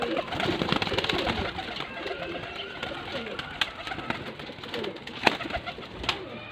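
Baby pigeons for sale in Faisalabad cooing softly amid a busy mix of other bird calls, with someone talking over them throughout.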